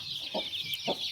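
A hen on a poultry farm with a batch of young gavran chicks clucks twice, soft and close, over steady high-pitched peeping from the chicks.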